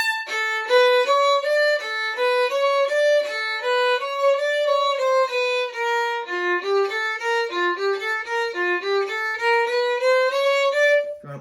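A solo violin plays the allegro section of a piece: a clear, close melody of distinct bowed notes moving stepwise up and down in a steady rhythm, with no other sounds.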